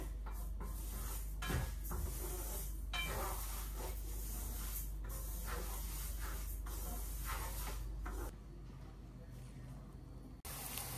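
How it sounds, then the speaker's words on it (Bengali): Mung dal fries in a pan, giving a broad, steady hiss and rustle with faint scraping, fairly close, dropping slightly in level near the end. "এই যে রান্না করব মুগ ডালটা এই যে ভেজে নিতেছি আগে"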